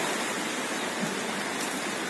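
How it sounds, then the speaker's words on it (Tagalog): Heavy rain pours steadily on a banana plantation, a dense continuous hiss with no breaks and no voices. "At malakas pa ang ulan."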